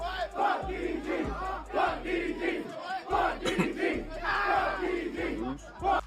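A concert crowd chants in unison, a loud rhythmic group shout repeating in regular bursts with brief gaps between phrases, echoing through a large venue.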